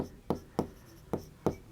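A pen writes an answer by hand, heard as four short, sharp strokes on paper, close up and separated by brief pauses, with no voices.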